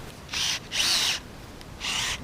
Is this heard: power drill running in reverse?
yes